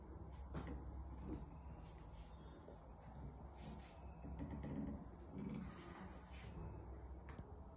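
Kitchen drawers holding crockery and cutlery slide open with dull wooden knocks and muffled rattles, quiet and slightly distant against a roomy background hum.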